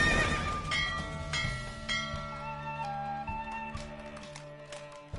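Horse whinnying and neighing with clip-clop of hooves during a horse race in The Witcher video game, the neighs loud and near over a layered game soundtrack, fading toward the end.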